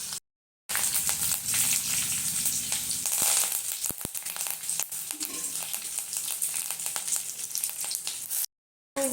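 Curry leaves and spices crackle and sizzle hard in hot oil for a gongura chutney tempering, a loud continuous spitting fry with sharp pops, starting suddenly and cutting off at the end.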